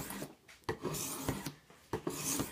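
A knife edge scrapes across a cheap tri-stone sharpener in a series of quiet, rhythmic rasping strokes, each a short gritty swipe separated by brief pauses.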